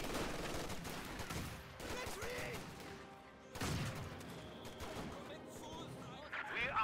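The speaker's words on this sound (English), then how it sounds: "I could see and hear the Thompson still firing" Thompson submachine gun fire in the World War II strategy game Company of Heroes 2, crackling in dense bursts amid other battlefield gunfire and explosions, with a caster talking over the action.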